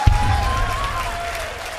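Darts crowd at the World Darts Championship applauds and cheers in a large arena, a sustained wash of clapping with a sharp burst at the start, under a commentator's voice.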